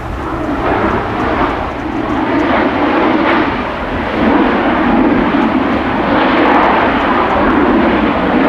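Airliner passing overhead at Amsterdam Schiphol Airport, a loud continuous engine roar that swells and holds steady throughout, with no talking.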